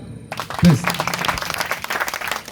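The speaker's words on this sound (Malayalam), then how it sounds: "ഒരു നല്ലൊരു കൈയടി" Audience applause at a live game show with a magician on stage, starting abruptly and swelling into sustained, dense clapping from a crowd that carries on through the clip.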